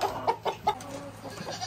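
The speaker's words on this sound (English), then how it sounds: "Silly chickens." Backyard hens clucking in short, separate bursts, close by and fairly soft, while they peck at crushed eggshells in their coop. No voice is heard.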